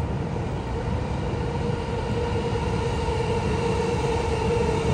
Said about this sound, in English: Train coming, by the way, so that's a thing.